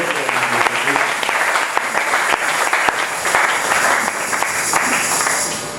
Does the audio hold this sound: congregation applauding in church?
yes